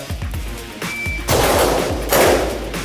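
Live gunfire at a shooting practice range, heavy dull booming shots fired in quick bursts, loud and close, with rapid thumping reports overlapping into a fusillade.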